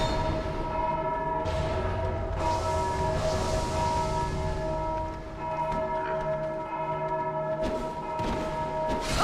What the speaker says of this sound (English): It rang the bell.